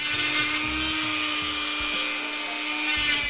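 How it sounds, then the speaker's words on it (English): A Dremel rotary tool driven through a flexible shaft shapes small wooden intarsia pieces with a steady high whine, while the bit grinds against the wood in uneven bursts and drags throughout. "I use a Dremel and a flexible shaft to shape the pieces."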